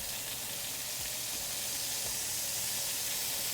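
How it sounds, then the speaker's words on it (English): Halloumi cheese fries in a hot pan, giving a steady, close sizzling hiss with faint spitting crackles throughout and no talking. "Don't overcrowd the pan when you're frying the halloumi."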